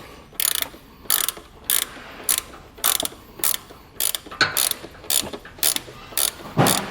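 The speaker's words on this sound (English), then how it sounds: "I recommend just a ratcheting 14 millimeter wrench" Ratcheting 14 mm wrench clicking in short, regular bursts at close range, about a dozen quick ratchet strokes while working from the side of a 2022 Subaru Impreza to mount a hidden trailer hitch receiver, with no talking.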